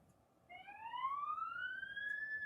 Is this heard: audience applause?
no